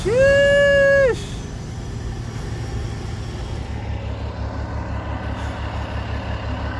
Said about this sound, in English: I hope y'all enjoyed listening to the truck.